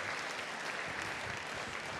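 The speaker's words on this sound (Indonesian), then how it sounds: "Beri tepuk tangan yang baik bagi dia" Steady, dense applause fills the church as a congregation claps together at a worship service, a continuous wash of hand claps with no voices rising above it.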